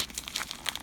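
Paper and plastic of a mailed package being torn and crinkled by hand, a quick burst of close, dry rustling and ripping lasting under a second.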